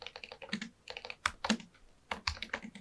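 A ChatGPT prompt is typed on a computer keyboard in quick bursts of crisp, close keystrokes, broken by short pauses, with no voices over it.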